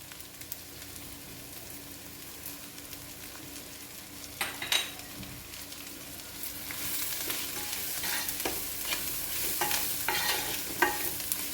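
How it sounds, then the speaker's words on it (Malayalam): Garlic pickle mixture being sautéed in a pan on low heat, with a soft continuous sizzle under close stirring and scraping strokes that grow busier toward the end, heard alone without talk. "നമ്മൾ സിമ്മിലിട്ട് വേണം ഇനി നമുക്ക് ഇത് വഴറ്റേണ്ടത്."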